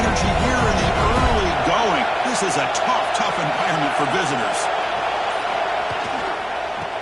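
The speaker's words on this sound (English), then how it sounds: "Listen to the crowd" An American football stadium crowd roars loudly in the background while a commentator calls the play over it, the noise gradually easing toward the end.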